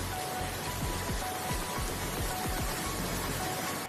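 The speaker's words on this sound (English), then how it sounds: "Sichuan and Gansu provinces also experienced heavy rains that led to flooding." Heavy rain falls during flooding in Sichuan and Gansu provinces, China, a steady close hiss of downpour with rapid drops striking surfaces throughout.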